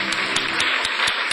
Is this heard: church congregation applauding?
yes